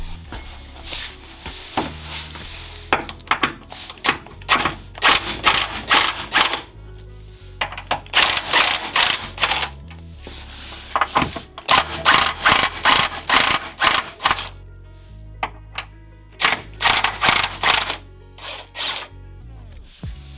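Metallic ratcheting and clanks from tools loosening 17mm front suspension bolts on a Honda CRX, arriving in repeated bursts of clicks and knocks with short pauses between them, close by and fairly loud.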